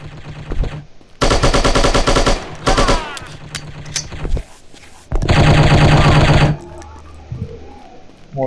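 Loud bursts of automatic gunfire from the shooter game Striker, fired through a wall: two long sustained volleys separated by shorter shots, clicks and mechanical game sounds.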